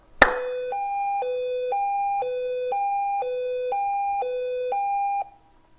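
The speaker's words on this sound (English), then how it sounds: "when you make a loud enough noise, it sets the alarm off." A loud electronic alarm siren from a sound-activated Arduino alarm, alternating between two tones in a steady, rapid rhythm, sounding alone for about five seconds before cutting off abruptly.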